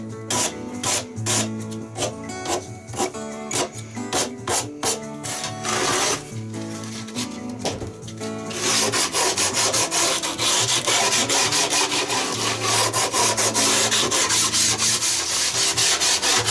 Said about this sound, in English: the final stage of making the guitar former is to soften all the edges